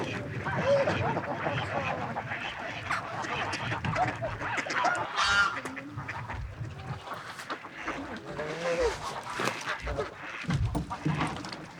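Ducks and geese being fed outdoors quack and honk in a busy, overlapping chorus at moderate distance, with people talking close by throughout.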